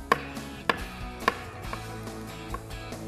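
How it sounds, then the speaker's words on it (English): Olives chopped with a knife on a cutting board, about seven sharp knocks in an uneven rhythm, close and clear with no voices. "I'm going to lay them out here on my board, okay? And I'm just going to kind of chop them up a little bit here."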